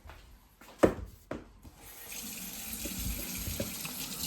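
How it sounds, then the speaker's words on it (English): Tap water runs steadily into an electric cooking kettle for several seconds, preceded by a couple of sharp knocks as it is set in place; no talking over it. "Get some water in here."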